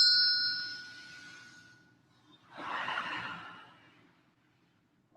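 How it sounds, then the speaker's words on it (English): A single bell strike rings out with a clear bright tone and decays over a second or two. A long, breathy exhale follows, then a second faint sound begins at the very end. "when you hear the bell, I want you to do a big breath"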